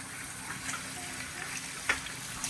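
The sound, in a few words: tap running hot water in sink to wash rice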